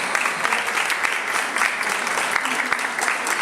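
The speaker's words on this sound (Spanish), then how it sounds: "le pido un fuerte aplauso" An audience applauds Gustavo Álvarez, a licensed psychologist, with steady dense clapping throughout.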